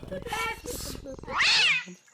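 A cartoon Cheshire cat gives a long, rising meow near the end, following a stretch of voices and tonal sounds.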